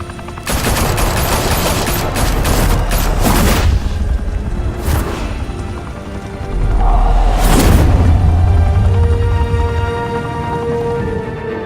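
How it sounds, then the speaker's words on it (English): Squad gunfire from the video game Batman: The Telltale Series: loud, dense volleys of shots with heavy booms and occasional whooshes, rolling on almost without pause for about eleven seconds. "Open fire!"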